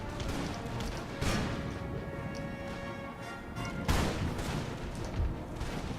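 Musket volleys and artillery fire in the strategy game Empire: Total War, a dense, continuous battle din with heavier booms standing out at intervals.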